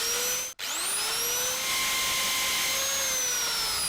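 A high-pitched electric drill whines steadily up close, drilling into a broken bolt on a Jaguar S-Type, briefly cutting out and spinning back up, its tone wavering slightly as it works.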